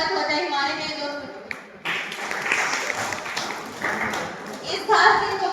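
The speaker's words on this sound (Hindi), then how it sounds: "जोरदार तालियों से स्वागत हो जाए हमारे नए दोस्तों" Applause rises from a crowd welcoming freshers at a college welcome party hosted by MA final-year History students at a government college, with bursts of clapping and cheering that swell and fade over loud, continuous talking.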